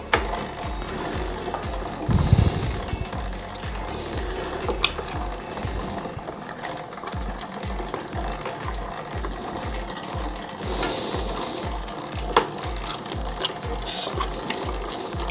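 A stand mixer kneads dense pizza dough on slow speed, giving a steady mechanical whir with rhythmic thumping and squelching pulses repeating throughout at close range, with no talk.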